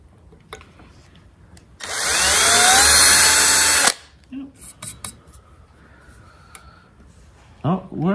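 A power drill with a bit drills out rivets while building an RV: a single loud, high whining burst of about two seconds, followed by scattered metallic clinks and small handling knocks in a quiet workspace.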